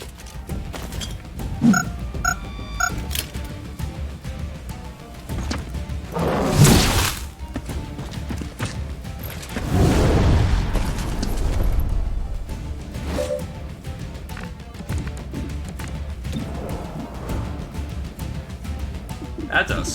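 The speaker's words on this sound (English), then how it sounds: "That's a small detonation, not gonna lie." An explosive detonation in the video game XCOM: Chimera Squad, heard as heavy thuds and shattering crashes with whooshing debris amid busy game noise, while a voice talks over it.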